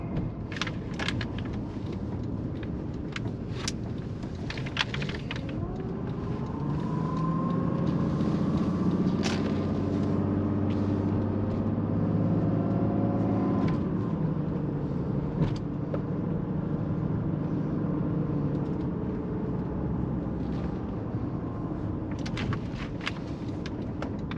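Low, steady drone of a 1987 Mercedes-Benz 300SDL diesel heard from inside the moving car, rising in pitch as it accelerates midway, then settling back to a cruise with scattered ticks and knocks.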